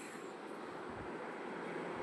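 Steady rumble and hiss fill a moving metro train carriage, an even, continuous interior drone with no voices.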